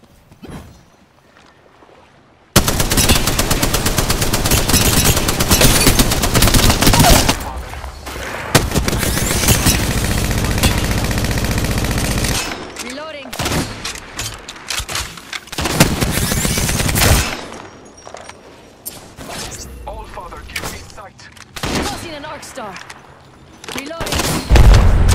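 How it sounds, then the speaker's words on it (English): Gunfire in the Apex Legends video game: dense bursts of automatic fire and explosive blasts crowd several long stretches, broken by quieter gaps where game sounds and voice callouts come through. "Taking fire. Making contact with enemy."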